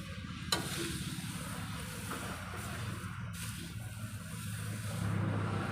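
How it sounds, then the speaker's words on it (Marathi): Chopped pieces being mixed into a spice masala by hand: a steady, soft rustling and scraping that runs continuously over a low background hum. "आता ह्या मसाल्यामध्ये ह्याला मिक्स करून घेतो आहे"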